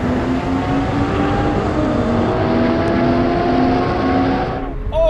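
Porsche 911 GT3 with naturally aspirated engine and a 911 Turbo S accelerating hard in third gear in a rolling drag race, a loud continuous engine roar with rising tones, heard close throughout.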